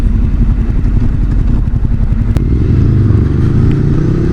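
A Harley-Davidson motorcycle engine rumbles loud and close, a dense low-pitched idle with rapid uneven firing pulses and mechanical clatter, rising slightly toward the end.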